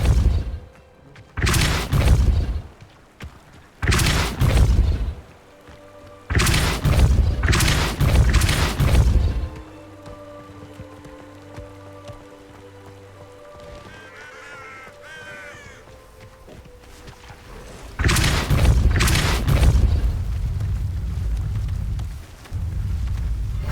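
Spell impacts from the Depulso force-push charm in Hogwarts Legacy: several loud, heavy booming blasts in short bursts, a quieter ambient stretch with distant calls, then another strong burst near the end.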